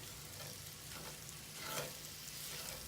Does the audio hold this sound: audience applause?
no